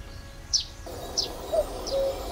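Cuckoo calls in the forest of the video game The Night of the Rabbit: a few short chirping bird notes spaced apart over a soft ambient background, with no voices.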